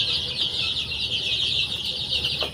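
A sick, weak young chicken making soft clucking sounds at close range, a steady raspy hiss of background noise throughout.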